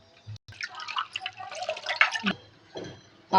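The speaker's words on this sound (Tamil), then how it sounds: "கொஞ்சோண்டு கல் கொஞ்சோண்டு மஞ்சத்தூள் போட்டு வாஷ் பண்ணிக்கலாம்" Goat trotters being washed in water with rock salt and turmeric give off close, irregular drips, splashes and wet rubbing, with a louder watery burst near the end.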